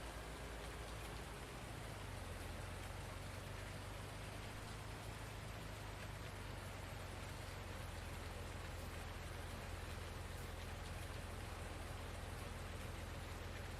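Steady in-game rain in Farming Simulator 19, a dense continuous hiss of falling drops at even loudness throughout, with a low engine-like drone underneath and no voices.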